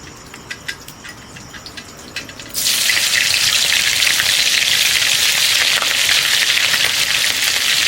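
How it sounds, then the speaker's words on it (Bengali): Green chilies drop into hot oil and set off a sudden loud, steady sizzle, heard close up as the frying for potatoes begins, after a few quieter moments of kitchen clatter. "এখন আমি এই আলু আলু ভাজার জন্য প্রথমে একটুখানি কাঁচা লঙ্কা দিয়ে দেবো"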